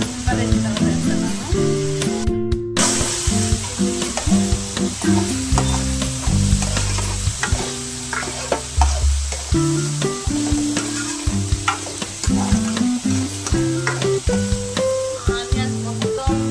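Curry leaves hit hot oil with tomato and onions in a pan for a Vijayawada-style fish curry, giving a loud, continuous sizzle broken by stirring scrapes and clatter, with a voice talking over it at times.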